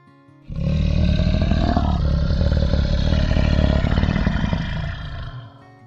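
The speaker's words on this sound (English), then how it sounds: "Lion" A lion lets out a single loud, sustained roar lasting about five seconds, close and full, rising abruptly and then fading out at the end.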